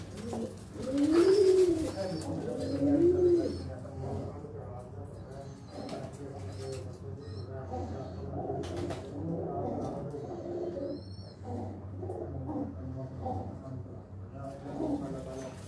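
Breeder pigeons kept in rooftop cages coo in low, repeated phrases, with a couple of louder coos early on and softer ones continuing throughout; speech is faintly present in the background.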